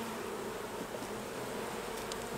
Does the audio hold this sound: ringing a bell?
no